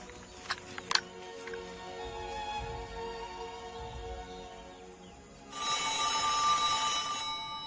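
An old telephone bell rings in a military headquarters scene set in wartime Yogyakarta, a bright metallic ring starting partway through after a few soft knocks and continuing steadily to the end.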